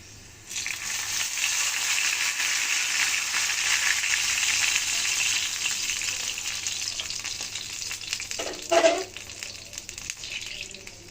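Garlic fries in a clay pot for tomato khatta, giving a steady, even sizzle that holds throughout, with a brief clatter of a utensil near the end.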